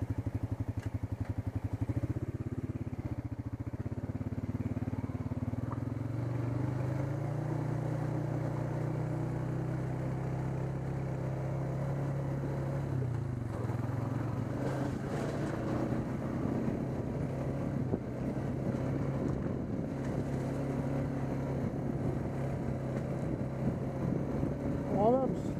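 A Rokon motorcycle riding along a woodland trail with stream crossings and slippery rocks, its engine a steady mid-pitched drone that shifts with throttle over the whole stretch, with wind noise and occasional clatter.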